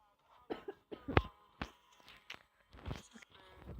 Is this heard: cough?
yes